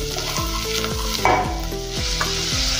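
Half a spoon of cumin powder being stirred into a frying Mexican rice mixture, loud close sizzle with rhythmic scraping strokes roughly every half second, plus a brief clatter midway.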